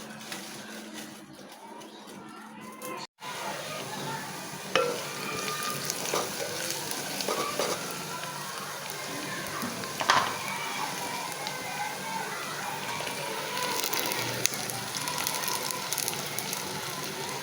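Greens sizzle in a hot frying pan with a steady crackle after a brief clatter, and the sizzle continues under soft background sounds.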